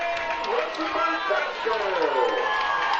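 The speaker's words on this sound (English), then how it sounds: "A big roar from the LC crowd early on." A big roar rises from a football crowd early in a game between Denmark and Luxemburg-Casco, a dense, sustained wash of cheering voices that holds steady throughout.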